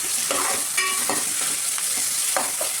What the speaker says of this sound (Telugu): అల్లం వెల్లుల్లి పేస్ట్ వేసిన తర్వాత మంచిగా కలపాలి.